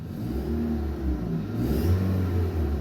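A car engine revved to raise the RPM on a car with no power and no check engine light, a steady mid-pitched drone that climbs and falls slightly, heard close with no talking.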